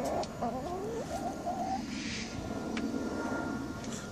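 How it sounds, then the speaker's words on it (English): Chickens cluck on the roof of a chicken coop, a few close bursts of hen vocalizations early on over a steady outdoor background, fading to quieter ambience with occasional faint clucks. "All the chickens have gathered on the roof."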